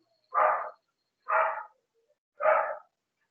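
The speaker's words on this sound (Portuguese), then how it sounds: "É um cachorro latindo aí." A dog barks three times in slow, evenly spaced bursts, close and fairly loud, with silence between barks and no talking.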